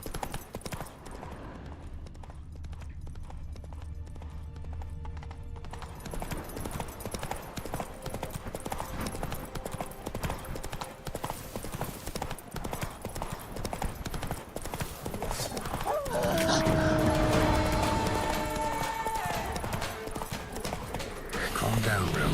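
Roach the horse's hooves in The Witcher 3 clip-clop in a steady gallop for the whole stretch, with game music and effects, and someone talks over the hoofbeats at times.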